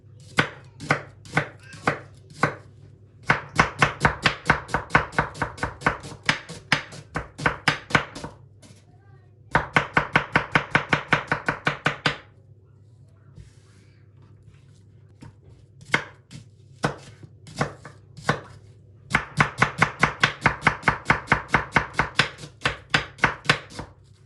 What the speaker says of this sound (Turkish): Doğrarken şu kısmını çok kesmezseniz doğrarken hiçbir şekilde soğan birbirinden dağılmaz